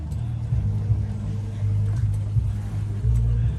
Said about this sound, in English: here we start off with the McCormick Farmall C wide front versus this McCormick Deering Farmall that's got the tricycle front